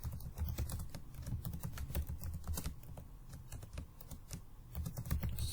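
Rapid, close keystrokes clatter on a computer keyboard in an uneven rhythm, with a few heavier key presses throughout and no voices.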